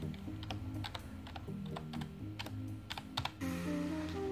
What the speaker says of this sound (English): Let me just type in my PIN.